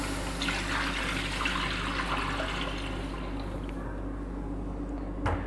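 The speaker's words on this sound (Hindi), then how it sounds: "तो सबसे पहले हम पैन में डालेंगे मिल्क" Milk pours into a pan for carrot halwa, a steady liquid rush and splash that thins out toward the end, fairly quiet and heard on its own.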